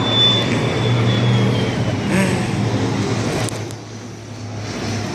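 A steady engine drone rumbles in the background, like an airplane passing at a distance, gradually fading toward the end.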